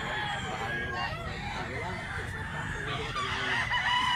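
Rooster, a two-year-old yellow-legged gamecock, with crowing and clucking fowl sounds over a busy yard while people talk nearby throughout.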